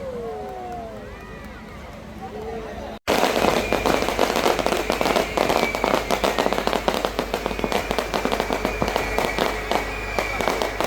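Festival fireworks bursting in the night sky at a large midnight temple celebration in Jaffna, a dense continuous barrage of crackling bangs after a brief quieter opening with distant calls.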